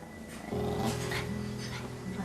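Mong, a protective dog guarding an ALS patient, lets out a low, steady growl that rumbles close and continuous under a soft backdrop of music.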